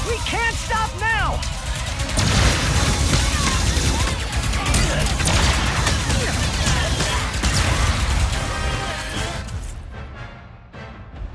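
Dense, continuous video game gunfire and explosions, loud and crowded, with a voice over it, fading out near the end.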